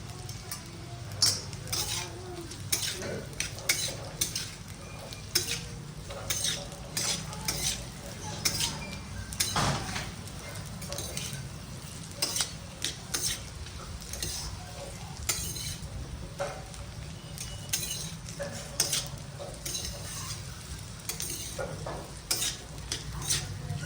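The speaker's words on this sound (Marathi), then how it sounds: "रताळ्याचे काप अशा पद्धतीने आपण सोडणार आहोत त्याला दोन चार मिनटं आपण मस्तपैकी परतून घेणार आहोत" Sweet potato slices sauté in ghee in a pan, a soft continuous sizzle broken by frequent scraping and clinking strokes of a spatula turning them, fairly quiet and steady throughout with no speech.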